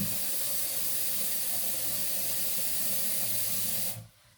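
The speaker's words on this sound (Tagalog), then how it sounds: "Nalagyan ko siya ng tubig." Steady rushing of water pouring into a cooking pot for Croatian juha soup for about four seconds, then it stops abruptly and the room goes quiet.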